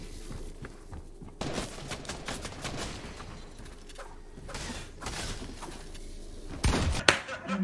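Gunfire crackles through a Fortnite match, with several bursts and a louder pump shotgun-style blast near the end, mixed with in-game clatter while a player talks over parts of it.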